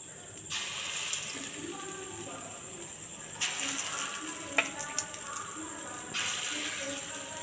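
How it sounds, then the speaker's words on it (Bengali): Rice and soy chunk vada patties fry in hot oil with dal, garlic and onion in the batter, a steady sizzling hiss running throughout with a few louder crackles and pops as pieces hit the oil. "পুষ্টি ভাত দিয়ে বড়া ভাজা খাবো"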